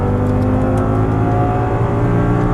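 Audi R8 sports car accelerating hard on a race track, a loud, steady engine roar filling the whole stretch with no pause.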